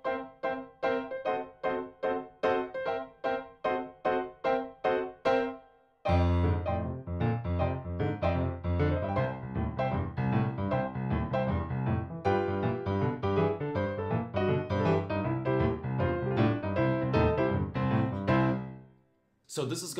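Boogie woogie intro on piano, opening with a run of short staccato chords, then a full rolling rhythmic passage with a driving bass line, loud and unaccompanied.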